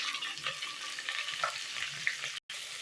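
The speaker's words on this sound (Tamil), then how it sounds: "இப்போ கொஞ்சமாக உப்பு போட்டு வெங்காயம் நல்லா பொன்னிறமாக ஆகிற வரைக்கும் நல்லா ஃப்ரை பண்ணிக்கணும்." Three chopped onions and two green chilies fry with salt for mutton biryani, giving a close, even sizzle with a few soft stirring scrapes and no voices.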